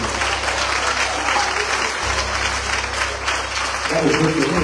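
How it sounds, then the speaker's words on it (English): A church congregation claps hands together during a sermon, a dense, steady burst of applause over a low background hum. "Come and clap your hands like you love Jesus"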